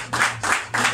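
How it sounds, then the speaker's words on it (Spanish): Three short rhythmic bursts of hand clapping greet the bride's father at a wedding, close and moderately loud, evenly spaced like a small group starting to applaud. "Y se le merece un gordito aplauso, por favor, por eso, padre."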